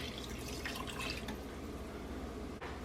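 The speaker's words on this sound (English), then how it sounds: "Now I'm going to add the cup of milk" Room-temperature milk pours steadily into a pot of homemade cream of chicken soup made with bone stock, giving a continuous close liquid splashing and trickling sound with no voices.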